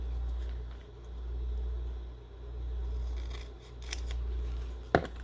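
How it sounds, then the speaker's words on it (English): Scissors cut sheets of stickers two at a time, giving one crisp snip near the end over a steady, low, humming rumble in the room, with no voices. "I think they'll be okay if I just cut 2 at a time and put in there."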